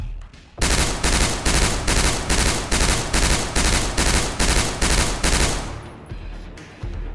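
A Halo 5 battle rifle fires in a video game, a loud run of evenly spaced bursts, about a dozen in steady rhythm, followed by a fading tail and a brief quiet.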